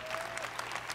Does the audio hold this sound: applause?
yes